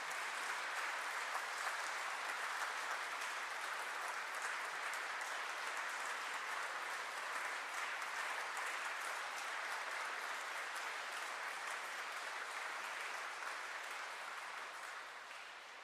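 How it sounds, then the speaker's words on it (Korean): A congregation at a Seoul archdiocese name-day celebration Mass for Archbishop Yeom Soo-jung claps steadily as he enters. The dense, even applause fills the room for about fifteen seconds before tapering off slightly at the end. "모두 큰 박수로 주교님을 맞이해 주시기 바랍니다."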